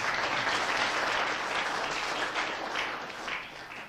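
Steady audience applause at a motivational business meeting honoring a member, dense clapping filling the room and tapering slightly toward the end, no voices over it.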